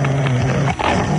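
A dog growls in a low, steady rumble close by, continuing for over a second with a brief dip near the end, alone without talk.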